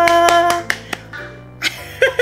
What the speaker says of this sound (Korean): 와, 박수 쳐주세요.